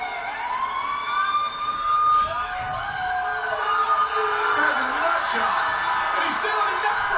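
An ambulance siren wails with rising and falling sweeps, loud and close, with other noise and voices underneath, during the Fastlane 2016 event.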